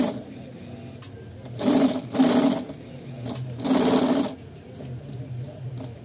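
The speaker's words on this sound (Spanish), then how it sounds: "Aquí estamos cosiendo con una aguja gruesita, en un material de varias capas" Sewing machine with a thick needle running a straight stitch through thick multi-layer material, in two short loud bursts of rapid stitching separated by pauses, with a low motor hum in between.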